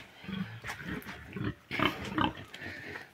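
Several farm pigs grunt and snuffle up close in a busy pen, with short overlapping grunts in uneven bursts and no talking.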